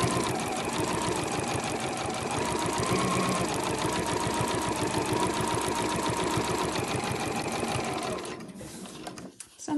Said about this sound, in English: I will just do a few stitches forward and a few stitches back to begin with.